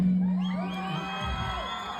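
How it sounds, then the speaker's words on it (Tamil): Audience cheering and whooping, a brief burst of raised voices and shouts over a low steady hum, fading slightly across about two seconds. "இந்த ஒரு கைத்தட்டலுக்காகவும் இந்த ஒரு உற்சாகத்துக்காகவும் தான் நாங்கள் வந்திருக்கோம்"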